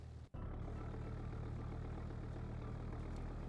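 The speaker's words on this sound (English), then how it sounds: "Race exhaust." A car fitted with a race exhaust idles in the BeamNG driving game, giving a low, steady, rumbling drone that cuts out for an instant near the start and then holds evenly.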